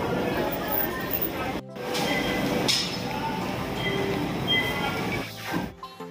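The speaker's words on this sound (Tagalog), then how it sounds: "may naka-standby na agad na tren" Train standing at a rail station in Quiapo, Manila, with steady platform rumble and a brief clink; people talk over it throughout and the sound cuts out briefly near the start.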